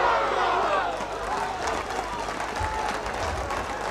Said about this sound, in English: Good round of applause from Rovers fans.